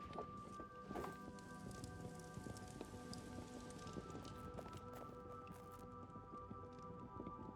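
Acid rain falling in the fantasy game Pax Dei, a steady quiet patter of drops on surfaces with a few brighter clicks and knocks over a faint low tonal hum.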